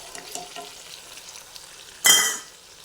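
Ginger-garlic-onion paste and chopped tomatoes hit hot oil in a pan: after a quiet stretch with faint clinks, a sudden loud, sharp sizzle bursts out and fades over about half a second.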